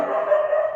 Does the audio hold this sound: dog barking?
yes